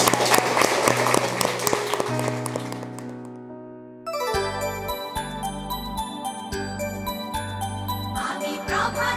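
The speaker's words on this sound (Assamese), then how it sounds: "উইনাৰসকলৰ কাৰণে এটা গ্ৰেট তালি" Applause for quiz winners at a teachers' training session: a few seconds of dense, lively group clapping, fading out and giving way to tinkling, jingly music.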